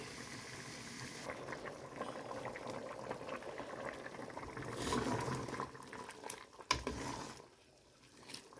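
Soup of sour bamboo shoots and pork bones bubbles and churns steadily in a pot, a soft continuous burble with a few clinks, fairly quiet and close.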